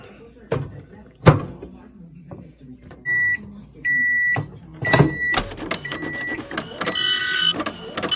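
A microwave oven heating Johnsonville brats gives two steady electronic beeps, each about half a second, amid door clunks, bangs and kitchen clatter with talk nearby.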